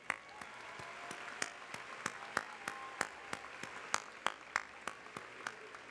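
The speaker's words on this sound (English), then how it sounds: "please join me in giving yourself a round of applause" A Winton Woods class of 2017 high school graduation audience applauds, sharp distinct claps in a steady rhythm, moderately distant and sparse rather than a dense roar.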